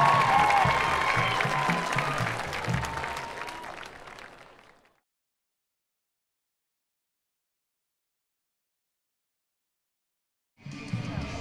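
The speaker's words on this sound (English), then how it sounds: "How about another round of applause for the Showband of the South?" A stadium crowd applauds a high school marching band, the Showband of the South, at a halftime show: steady, loud clapping that fades out over several seconds, silence, then clapping briefly returns at the end.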